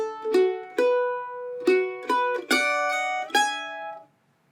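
A mandolin picks a short passage of plucked notes and double stops from a bluegrass break, with about eight bright, ringing attacks in an uneven rhythm. It is close and clear, with no voices, and a final chord is left to decay into silence.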